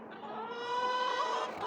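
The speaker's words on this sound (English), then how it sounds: "Just let the chickens out, gave them a bit of a treat there with some cabbage." Chickens clucking outdoors in snowy winter weather after being let out and given cabbage, a dense, steady chorus of overlapping clucks and calls at close range with no talk.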